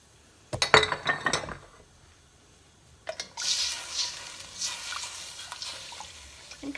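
Pouring a quart of liquid into a pot of Italian sausage soup and stirring to deglaze, first sharp clinks against the pot, then a sustained watery splashing and scraping.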